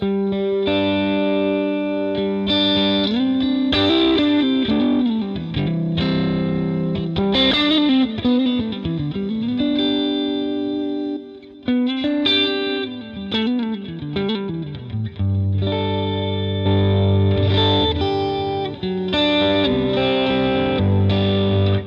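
An electric guitar through a Fractal FM3 emulation of The Edge's SDD preamp plays with a bright, driven tone, slightly distorted, shimmering with chorus-like doubling; chords and bending lead lines ring out for about twenty seconds without talk.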